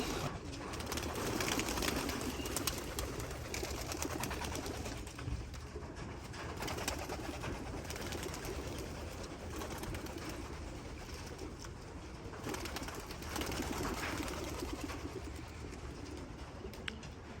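Racing pigeons cooing steadily at close range at their loft amid a busy, continuous background of fluttering and shuffling, with no talk.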